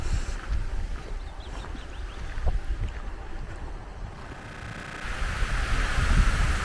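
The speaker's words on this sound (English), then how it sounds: "chances are you can't hear any of this because of the wind" Gusty wind buffets the microphone on a walk down a track toward Gight Castle, a loud rumbling roar that swells and eases throughout and builds again toward the end.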